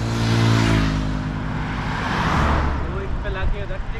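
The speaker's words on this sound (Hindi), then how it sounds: "अभी थोड़ा गाड़ी वाड़ी आने लग गए" Cars passing on a village road near Rajkot, a loud engine whoosh swelling and fading close by during a Sunday morning cycle ride, with a voice briefly audible.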